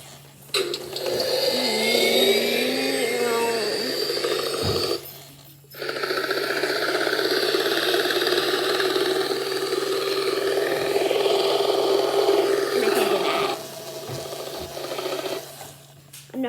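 A Hess toy helicopter from 2012 runs with a steady whirring, buzzing motor drone, cutting out briefly twice before resuming, close and fairly loud with no talking.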